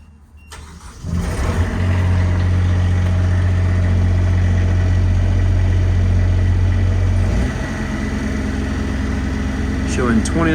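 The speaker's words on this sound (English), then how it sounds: "We're gonna go ahead and turn the EnPak on with the truck off." EnPak power unit on a 2018 Ram 5500 Cummins diesel service truck, started with the truck off, catches after a second and settles into a steady, loud mechanical idle that eases slightly near the end.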